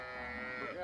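Beef cattle bred for a hot tropical climate let out a single sustained low moo, close and steady throughout the short moment.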